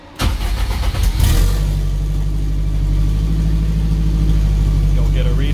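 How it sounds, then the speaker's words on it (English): A K-swapped Toyota MR2 engine cranks over after the fuel pump primes, catches quickly and settles into a loud, steady idle with a deep rumble, heard close up and alone. "Fuel pump kicks on. And then you're done. You just fire it up."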